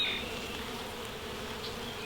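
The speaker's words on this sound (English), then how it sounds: "you can just see how many bees there are out and about today" Honey bees swarming around an open hive on a busy outdoor day, a dense continuous buzzing drone, close and steady with no talk.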